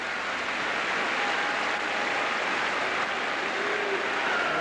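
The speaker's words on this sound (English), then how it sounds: "Curitan applauds." Crowd applause at a Bristol City football match after a long-range shot, a steady, even wash of clapping from the stands throughout.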